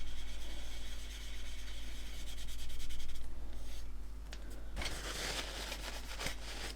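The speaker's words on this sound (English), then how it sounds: "if I deliberately sand through here" Hand sanding on painted plastic, rubbing through lacquer paint into primer; a close, steady scratchy rubbing in repeated strokes, with a brief pause and a louder burst near the end.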